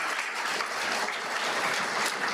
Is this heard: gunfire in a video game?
no